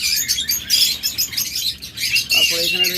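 Caged lovebirds or budgerigars chatter with rapid, high chirps and tweets, close and continuous, with a more tonal call rising near the end.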